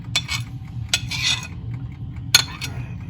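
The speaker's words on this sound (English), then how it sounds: "And again you mix it gently." A spoon gently mixing Finnish rosolli Christmas salad with cucumber and marinated red onion in a bowl: three short, quiet scraping clinks spread over a few seconds above a low background hum.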